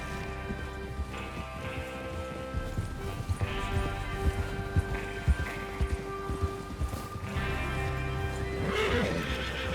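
Horses in the video game Red Dead Redemption 2 whinny and neigh while hooves clip-clop at a trot, set against a bed of game ambience and music.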